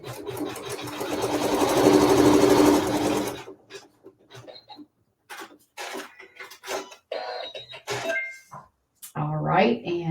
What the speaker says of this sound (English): And now I'm going to sew a seam.